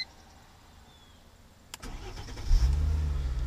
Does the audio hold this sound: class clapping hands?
no